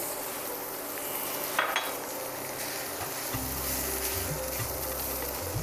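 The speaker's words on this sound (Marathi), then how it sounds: "आता आपण त्याच्यात घालूया खोबरं हे अर्धी वाटी खोबरं आहे" Half a cup of coconut roasted with chillies in a pan, with steady soft sizzling and occasional stirring scrapes and clinks over a constant hiss, close and without talk.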